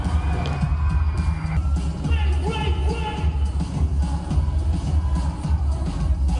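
A concert crowd screams and cheers for a pop group at its finale show, loud shrill shouting layered over booming, bass-heavy music, with voices rising and falling throughout.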